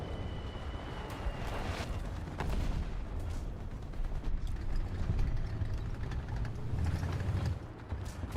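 Gunfire and artillery in War Thunder, a dense stream of sharp shots and booms over a constant engine rumble, heavy and continuous.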